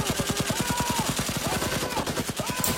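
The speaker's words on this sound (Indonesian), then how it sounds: "mereka kembali menembaki Arman dan teman-temannya" Rebel gunfire in a war film: rapid automatic bursts crackle in a fast, even rhythm, loud and close, with dense overlapping shots and a brief lull near the end.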